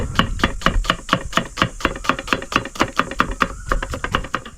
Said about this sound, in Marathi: आता मी हे चारी कांदे पटकन कापून घेतो